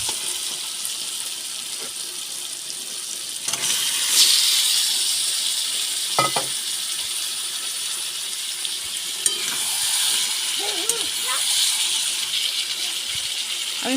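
Chicken pieces drop into hot spiced masala in a pan, giving a loud, continuous hissing sizzle with bursts of steam and occasional stirring scrapes and spatter, close and without talk.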